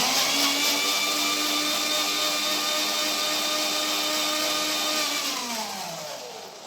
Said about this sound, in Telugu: మనం మిక్సీ అనేది మళ్ళీ ఆన్ చేసుకోవాలి